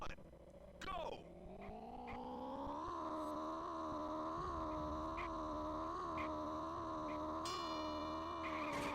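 A cat-shaped kart with wheels in the GameCube game TimeSplitters: Future Perfect gives off a long, steady, wavering meow-like drone during a race, with a person briefly talking over it.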